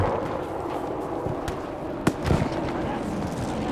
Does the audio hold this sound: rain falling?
no